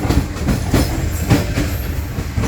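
A Toho commuter train rolling toward Surabaya Kota station, heard from inside as a loud steady rumble with rhythmic clickety-clack of wheels over rail joints and faint squeals, no talking.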